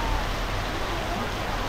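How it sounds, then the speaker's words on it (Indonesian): Heavy, wind-driven rain pours over a seawall at Muara Baru, Jakarta, a dense, even wash of hiss and rumble that holds steady throughout without a break. "Hari ini hujan kencang."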